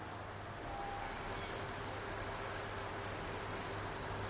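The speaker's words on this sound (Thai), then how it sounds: "อันนี้เราก็ติดเครื่องเพื่อทำการไล่น้ำ" A car engine idles while the cooling system is bled of air during a Liqui Moly coolant change at a repair garage, a steady low rumble with a faint whine, close and constant, no speech.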